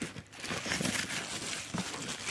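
Close, continuous crinkling and rustling of a plastic bag being handled, with irregular crackly bursts and no talking.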